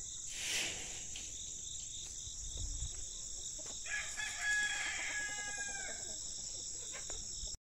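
Rooster on a farm crowing loudly in one long call, with chickens clucking nearby over a constant high chirping of crickets in the background.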